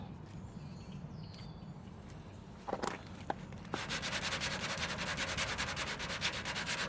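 A 57 Chevy car body being hand-sanded lightly with sandpaper: quiet background at first, then a steady run of rapid rasping strokes that continues to the end.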